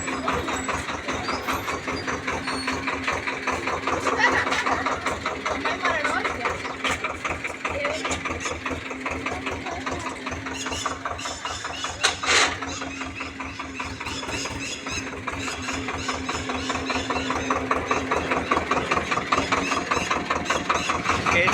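A tractor engine idles steadily on a village road near farm fields, its rapid low putter running evenly for over twenty seconds with a brief louder knock midway and occasional faint talk.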